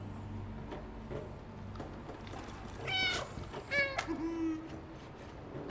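Cat meows in a video game come in a couple of short bursts over a quiet background hum, fairly close and clear.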